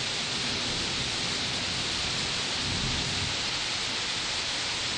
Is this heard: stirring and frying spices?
no